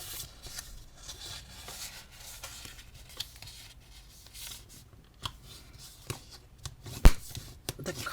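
Folding and burnishing cardstock for a keepsake box makes soft, close papery rubbing and scraping with a few sharp creasing taps, quiet and uneven, with no talking.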